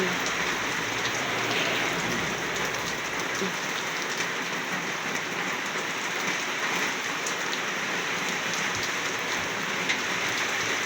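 Steady rain pours down evenly, a dense hiss of drops pattering on surfaces without pause, moderately loud throughout.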